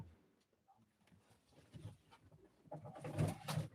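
Pigeons at a live pigeon auction coo in low, throaty bursts, growing louder toward the end, with soft rustling and scattered background noise around them.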